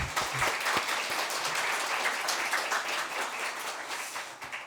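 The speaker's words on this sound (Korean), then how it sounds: "우리 찬양대 위에 박수 한번 할까요?" A church congregation applauds its choir at a Christmas Day Sunday morning service, with steady dense clapping that fills the room and fades slightly toward the end.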